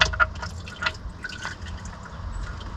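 Automatic transmission fluid mixed with penetrating oil drains from the engine of a 1960 John Deere 1010 backhoe into a pan, heard as close, irregular drips and splatters over a low liquid rumble, continuing steadily without talk.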